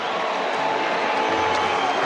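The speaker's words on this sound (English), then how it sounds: "And the crowd is now fully engaged." A stadium crowd roars steadily at the 2023 Brisbane vs Carlton AFL preliminary final, a dense, continuous wash of cheering under a commentator's voice.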